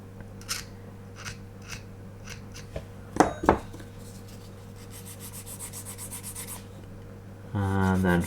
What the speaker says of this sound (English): scrape that seam away.